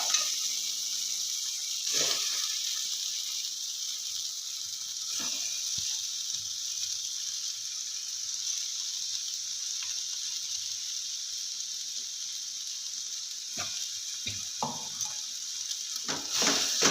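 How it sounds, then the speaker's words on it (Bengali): Chicken pieces frying in spiced masala sizzle steadily in the pan, with occasional scrapes and clinks of stirring at intervals. "চিকেনটা দিয়ে বেশ ভালো করে কষিয়ে নেব"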